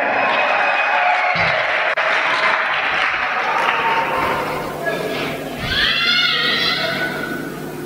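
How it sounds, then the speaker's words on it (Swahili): A church congregation applauds and ululates in praise of Jesus: dense, steady clapping fills the whole stretch, and high trilling ululations rise over it toward the end. "hapa wote muungane mshangilie Yesu kwa makofi na"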